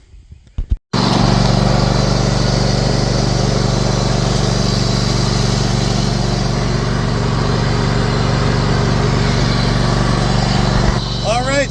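A John Deere X320 lawn tractor engine starts after a brief clatter and runs at a steady, loud drone close by, holding an even idle for about ten seconds before cutting off near the end.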